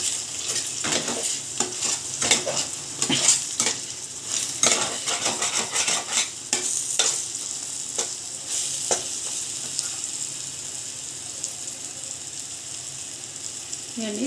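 A spatula clatters and scrapes against a pan while an egg omelette is flipped for egg rice, with steady frying sizzle underneath and a run of sharp metallic knocks that thin out toward the end.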